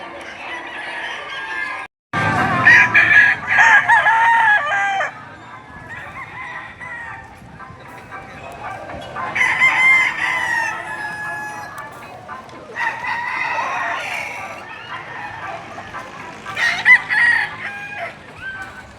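Roosters crow repeatedly at the Padre Garcia livestock market in Batangas in the early morning. The loud, close crows come one after another, with clucking and faint voices in between.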